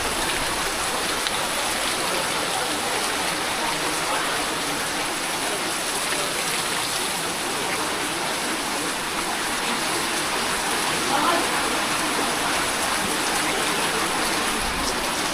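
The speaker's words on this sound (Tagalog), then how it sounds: "Lakas ng ulan." Heavy rain pours down at an evacuation center ahead of Typhoon Tino in a steady, dense hiss that stays constant throughout, with no voices.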